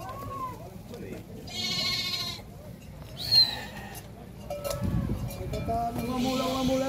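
Sheep and goats bleat in a farm pen in Dois Riachos, Alagoas, with several overlapping calls near and far while someone talks over the flock.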